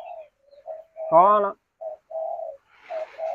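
Spotted doves kept for breeding give a short, near coo amid someone speaking Vietnamese on either side of it.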